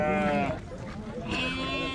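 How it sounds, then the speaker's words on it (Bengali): A goat bleats at a Qurbani livestock market in Uzbekistan, giving one clear, close, wavering call while someone talks nearby. "এই হইলো ছাগল"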